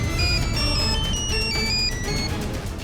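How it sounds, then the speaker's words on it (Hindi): A melodic electronic ringtone plays continuously, its bright chiming notes stepping up and down over a steady background of room noise. "दादा का फोन आ रहा है"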